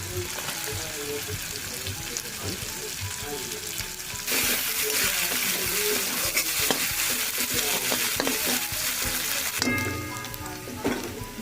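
Chopped onions with garlic paste sizzle steadily in potato-frying oil for a chilli potato dish, with repeated scraping stirs of a utensil. The frying grows noticeably louder partway through and stays close and continuous.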